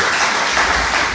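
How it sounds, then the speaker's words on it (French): An audience applauds Professor Souleymane Bachir Diagne at a reader gathering, a dense continuous patter of many hands clapping, loud and steady throughout. "Je vous demande d'applaudir merveilleusement le professeur Souleymane"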